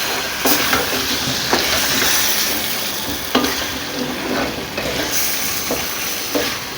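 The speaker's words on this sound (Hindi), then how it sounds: "अब मैं इसको भुनना शुरू कर दूँ" Chicken leg pieces roasting and being stirred in a karahi for black pepper chicken karahi: a steady sizzle with repeated sharp scraping strokes of a spoon against the pan, up close and with no talking.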